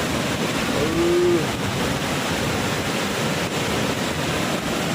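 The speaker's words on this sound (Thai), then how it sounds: "ตอนนี้เรามาดูน้ำตกกันนะครับ" The waterfall at Tad Yeuang, Laos, gives off a loud, steady, unbroken roar of rushing water, close and continuous, with no voices over it.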